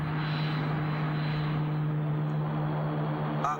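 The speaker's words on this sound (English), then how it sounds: "the orbit jet is in the process of landing" An orbit jet comes in to land with a steady, loud engine drone and a continuous low hum that holds evenly throughout, heard alone without speech.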